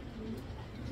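Racing pigeons coo softly, a low, faint murmuring coo in a brief moment against a quiet background.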